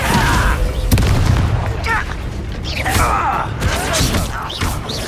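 Spell effects from the video game Hogwarts Legacy, a series of booming thumps, mechanical rumbles and whooshing magical bursts during combat, with voices shouting over the action.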